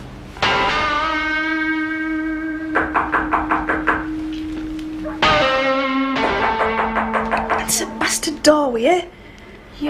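Knocking raps on a door in a dramatic indoor scene, several quick series of knocks that ring out over sustained tonal music, with a break and a louder second set near the end.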